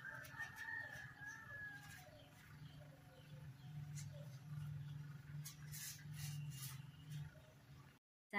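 A rooster crows once early on and chickens cluck faintly in the background around a rural home. The calls sound moderately distant over a steady low hum and quiet rustling.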